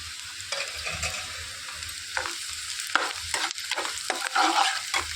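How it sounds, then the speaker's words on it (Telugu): Crushed garlic-chili paste frying in oil for an ivy gourd fry, a soft crackling sizzle with scattered scraping stir strokes that grow busier and louder toward the end, close by with no voices. "ఇందులోనికి దంచి పెట్టుకున్న వెల్లిపాయ కారాన్ని వేసేసుకోవాలి"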